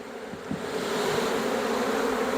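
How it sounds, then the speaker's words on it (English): Honey bees in a swarm capture hum around a hive box, a dense, steady buzzing that swells slightly and holds close and loud throughout. "Good sign there that we have the bees inside the box there."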